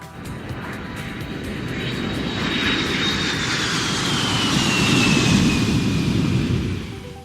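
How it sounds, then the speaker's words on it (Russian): A passenger airplane passes overhead with a broad, rising and falling engine roar and a high whine that slides downward, loud and continuous with no speech. "Пассажирский самолет."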